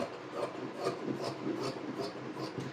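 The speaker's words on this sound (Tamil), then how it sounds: "இப்போ நான் ஃபுல்லாக கட் பண்ணி எடுத்துக்கிறேன்" Blouse fabric cut into a long strip along a ruler line with a run of quiet, evenly spaced scraping snips, each stroke a soft rasp repeating steadily, close by with no talk.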